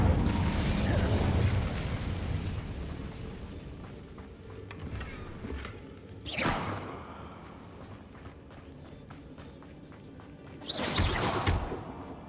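An Incendio fire spell bursts in Hogwarts Legacy, with two loud whooshing blasts, the first around the middle and a longer one near the end, over a quieter rumbling game background.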